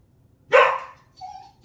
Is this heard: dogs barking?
yes